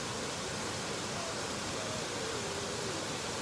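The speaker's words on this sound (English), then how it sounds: "up at the waterfall at New Lanark." Waterfall at New Lanark on an early summer morning, heard as a steady, dense broadband roar of falling water, constant and fairly loud from start to finish with no voices.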